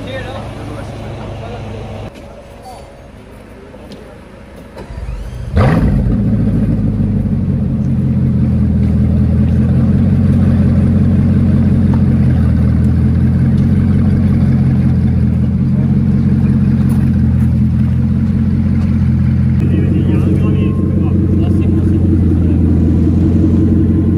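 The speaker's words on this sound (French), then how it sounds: "Start-up de bolide." A Bugatti Bolide cold-starts in Paris with a sharp crank and burst, then settles into a loud, deep, sustained rumble close by, rising a little toward the end; voices talk faintly beneath the engine.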